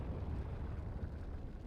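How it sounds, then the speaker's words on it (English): Explosion in the Sonic Adventure video game, a dense, rumbling low-heavy blast that roars steadily at full loudness for the whole span with no clear onset or fade. "That's a freaking explosion right there."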